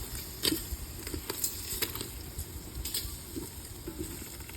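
Bacon fries in a pan with a continuous soft sizzle and scattered pops and crackles, fairly faint and close, with occasional light stirring sounds and no speech.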